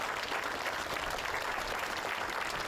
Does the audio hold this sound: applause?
yes